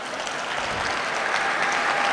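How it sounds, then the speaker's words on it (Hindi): A dense wash of audience applause at a poetry mushaira, steady and loud for the whole stretch, with no talk over it. "एक बार पहले अपने लिए आप ताली बजाएं"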